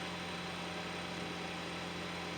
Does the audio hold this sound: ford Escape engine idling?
yes